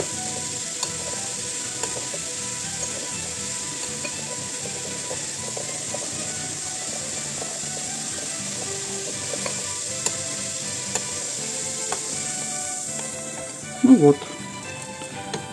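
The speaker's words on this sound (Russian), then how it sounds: "кипятком сода тоже гасится, то есть она переходит в другую химическую немножко формулу" Baking soda fizzes in boiling water while homemade processed cheese is being made. A fine, steady hiss runs throughout, with a brief clatter near the end.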